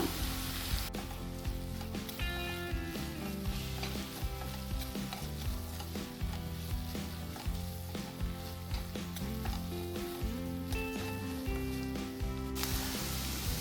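Ginger garlic paste dropped into hot oil after onions turn golden brown hisses in a continuous, fairly loud sizzle with light stirring scrapes, steady throughout and free of speech.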